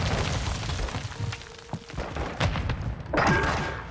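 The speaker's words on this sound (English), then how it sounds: "That nade was nuts." A grenade blast in Warzone 2 lands as a heavy thud and boom amid game noise, followed by a louder crackling burst near the end, with no talk over it.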